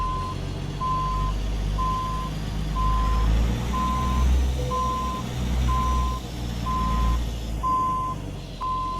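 Reversing beeps from a Ford LTL 9000 truck in American Truck Simulator, a steady series of about ten evenly spaced single-tone beeps over a low, continuous engine rumble, with no talking.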